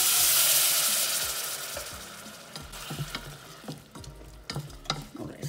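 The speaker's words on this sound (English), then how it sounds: "Now we can cook the tomatoes and shallots." Tomatoes and shallots hit a hot pan with a loud initial sizzle that fades into softer frying crackle, broken by clinks and scrapes of stirring, close by with no talk.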